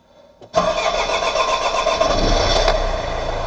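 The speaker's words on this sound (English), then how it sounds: "try to start the van and see if we have any luck." After a short cranking sputter, the diesel engine of a Mercedes Vito W639 115 CDI van, just fitted with a new fuel filter, catches and settles into a loud, steady idle close by.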